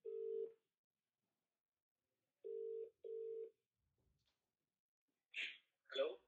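An outgoing phone call plays on speakerphone: a steady ringback tone sounds once, pauses, then sounds twice in quick succession before a voice briefly answers.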